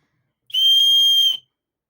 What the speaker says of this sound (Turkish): Şurada yardım çağrısı için düdük var.